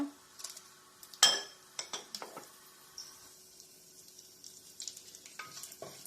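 Whole spices, cloves, cinnamon, peppercorns, bay leaves and cardamom, stirred in a pan for Kerala veg kurma, a quiet faint sizzle broken by sharp spoon clinks and scraping taps against the pan.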